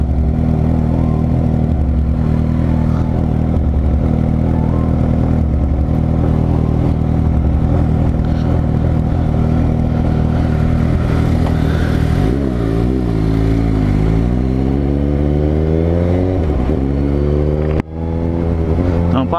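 A Suzuki GSX-S750 motorcycle engine with an aftermarket exhaust tip idles with a deep, steady rumble, then revs up and down a couple of times, close and loud.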